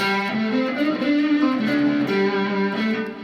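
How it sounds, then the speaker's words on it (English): Overdriven electric guitar through an Exotic Effects BB Preamp overdrive pedal, a sustained, harmonically rich lead line with bending notes, loud and continuous with no talking. "the BB preamp, it's by Exotic Effects, this is an overdrive pedal."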